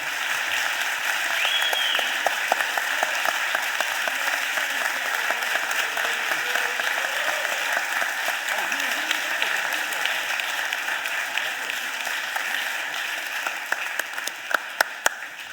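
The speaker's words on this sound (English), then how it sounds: "Can we give him a round of applause, everybody?" City council chamber applause honoring a retiring official, long and steady clapping from a roomful of people at moderate distance, with scattered louder individual claps standing out near the end.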